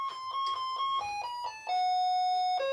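An Aydede electronic doorbell intercom plays a short melodic chime sequence, clear and close, with several descending tones ringing out one after another.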